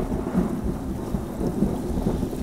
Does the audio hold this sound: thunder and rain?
yes